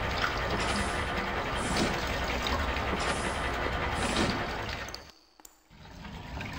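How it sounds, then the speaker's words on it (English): Water pump in the game The Black Mirror, part of a water distribution system, gives a steady, loud rush of flowing liquid that swells and eases, then briefly drops out before resuming. "It pumps the water in and out endlessly, according to immediate needs."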